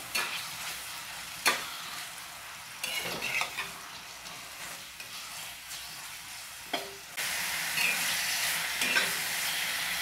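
Chicken filling for pita bread sizzles quietly in a pan while a spatula stirs it, knocking sharply a handful of times, and the frying swells louder toward the end.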